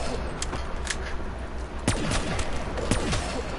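An M14 rifle fires in Black Ops 3 zombies on the Ascension map, giving several sharp gunshots at uneven intervals over a busy background of constant game noise. The shots are fairly close, and no one talks.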